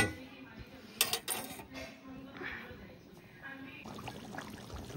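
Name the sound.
water poured into village-style mutton curry pot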